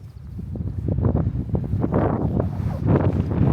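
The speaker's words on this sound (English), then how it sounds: "Oh, that's breezy." Breezy wind buffets the microphone outdoors on the hilltop of Woody Head near St Lawrence on the Isle of Wight, a steady low rumbling roar with gusty swells throughout and no voices.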